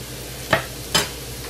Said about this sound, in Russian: Сейчас я высыпаю морковь. Перемешиваем. И продолжаем